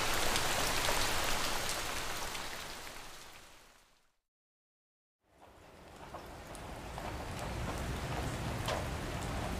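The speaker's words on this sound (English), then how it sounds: "We're being pelted with rain." Steady, heavy rain in the video game Love & Deepspace hisses loudly, fades briefly into complete silence, then swells back to a constant downpour.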